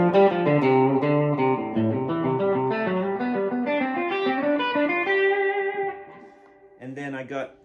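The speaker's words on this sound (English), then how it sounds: "It's great for that super subtle breakup where it's barely, it's more like a adds a richness than a distortion to the note" An electric Telecaster guitar plays a melodic line through a very subtle overdrive that adds slight breakup and richness to each note, ringing close and clear before a brief pause and a final few notes.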